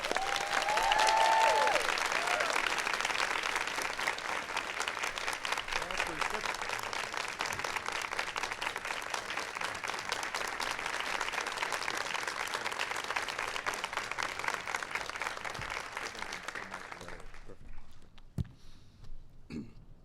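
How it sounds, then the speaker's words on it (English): A White House audience applauds the 2013 National Teacher of the Year with steady, sustained clapping that fills the room for most of the stretch, then quickly dies away into near silence. "Give Jeff a big round of applause."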